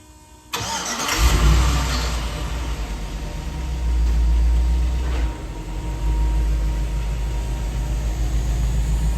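A Toyota Land Cruiser engine cranks and fires up, then settles into a loud, steady idle with a brief rev partway through, heard close and alone.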